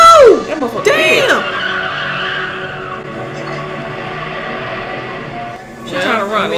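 Tires squeal sharply as a car peels off in Halloween (1978), the screech rising and falling in two bursts before settling into a steady roar, with voices talking over it.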